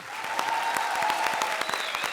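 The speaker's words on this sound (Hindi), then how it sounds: "So a big round of applause for the ABCD team." Audience applause for the ABCD dance team on a comedy stage show, a steady wash of clapping with sharp individual claps standing out, a tonal music line or cheer running through it.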